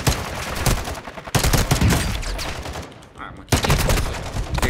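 Rapid pistol gunfire in Call of Duty: Warzone 2.0, loud and close, with dense bursts of shots running almost continuously and a brief lull near the three-second mark before firing resumes.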